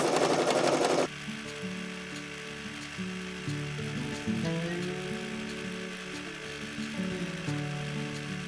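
A sewing machine runs in close, steady bursts of rapid stitching while thread-painting a pine tree trunk in brown thread, its motor whirring and clattering with short pauses between runs.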